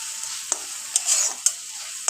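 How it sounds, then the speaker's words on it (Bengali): Jackfruit curry masala sautés in oil with a constant bright sizzle, broken by about five sharp spatula clicks against the pan. "এবার আমি এটাকে 4 থেকে 5 মিনিট মতো ভালো করে কষাতে থাকবো যতক্ষণ আর তেল ছেড়ে আসছে"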